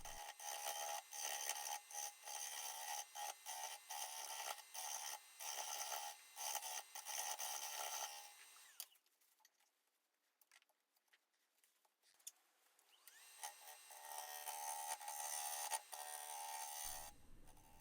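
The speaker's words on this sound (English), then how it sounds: "I know that I'm going to use my hollowing system in conjunction with just some round carbide hollowing tools" A round carbide hollowing tool cuts the inside of a yew bowl on a wood lathe. It gives a steady, close, raspy scraping that stops for several seconds in the middle and then picks up again.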